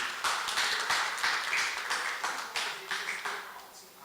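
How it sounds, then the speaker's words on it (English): Applause from a round-table audience at a gold mining session, a steady patter of hands clapping with voices talking over it. "Let's give them another round of applause, please."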